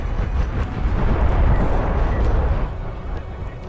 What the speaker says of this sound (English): Barrage is coming in here, I'm hoping that I can just kill off that carrier.